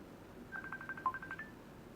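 An incoming telephone call sounds as a short electronic ring tone: a quick run of bright, evenly spaced beeps, fairly faint, with no talking over it.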